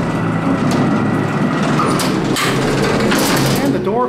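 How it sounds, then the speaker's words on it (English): An old, worn freight elevator door at a shopping mall rolls and clanks as it opens, a loud rumbling, scraping slide with rattles and bangs, while people talk nearby. "And the door opens."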